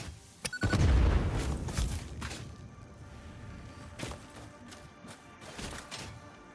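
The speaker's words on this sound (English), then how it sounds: "You can see the explosion radius from these." Dynamite goes off while trees are cleared in the video game Satisfactory: a heavy deep boom near the start rolls into a rumbling tail, followed by a few fainter thuds and cracks.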